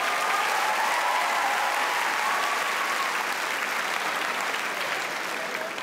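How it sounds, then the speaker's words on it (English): Sustained applause for a six-year-old gymnast, a broad continuous patter of many clapping hands, fairly distant and even, tapering slightly toward the end. "Give a round of applause."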